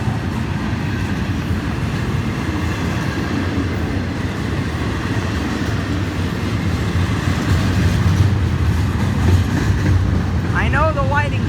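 An FEC freight train with CSX cargo rolls steadily past at Stuart, Florida, heading toward Miami. It keeps up a loud, continuous rumble throughout, with a brief high squeal near the end.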